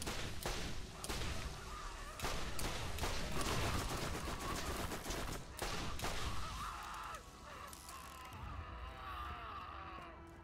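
Rapid, cracking bursts of gunfire from a corrosive weapon in the Borderlands video game, repeated shots in quick succession over a busy mix of game effects.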